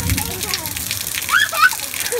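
Shower water splashes and patters close by in a bathroom while a child and an adult talk over it.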